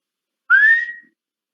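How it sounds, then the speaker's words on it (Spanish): A person whistles one short clear note that rises slightly in pitch and then holds steady for about half a second, close and alone in silence. "Yo puedo aprender a silbar, yo puedo aprender a chiflar a voluntad."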